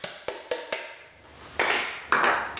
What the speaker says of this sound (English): And use a screwdriver and tap lightly with a hammer